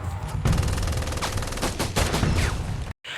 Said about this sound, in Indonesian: Lalu dari arah atas mereka dihujani peluru.